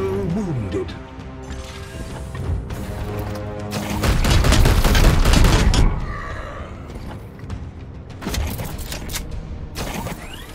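Gunfire bursts and mechanical clanks sound in the Warhammer 40k Chaos Gate Daemonhunters video game, with a loud sustained volley in the middle and sharper shots later, over game music and beeps.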